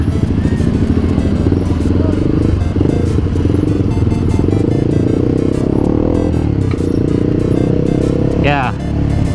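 A Honda CBR 150R motorcycle riding through Jakarta streets, its engine droning steadily and close throughout with traffic noise around it and someone talking over it.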